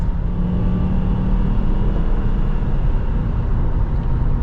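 A 2002 Ford Thunderbird's 3.9 V8 drones loudly and steadily from inside the cabin while accelerating, its low engine hum blending with road noise.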